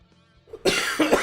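A quiet moment, then two loud, close coughs, the second following shortly after the first.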